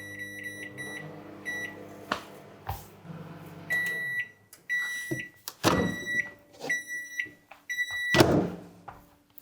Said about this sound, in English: pop that in a microwave. Most microwaves will melt the wax in about 3 minutes